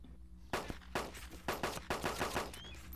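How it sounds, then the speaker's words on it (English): Rapid bursts of gunfire in the video game DayZ mod crack in quick succession, several shots close together in an uneven rhythm, loud against a low background hum. "I hear gunfire."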